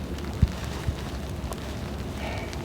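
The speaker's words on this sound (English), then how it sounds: "Well, it's raining," Rain falling on a campsite near a big rock, a steady broadband hiss with a couple of soft thumps, close and fairly quiet, with no voices.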